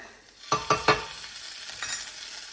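Garlic sizzling in a hot pan for broccoli almond soup, stirred in three quick close scrapes followed by a softer fourth, with a low steady fry underneath.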